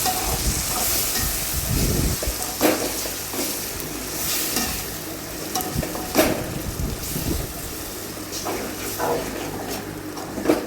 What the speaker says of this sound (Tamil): நல்லா அந்த எண்ணெய் தெரிஞ்ச வரைக்கும் நல்லா வதக்கிடலாம் தக்காளியை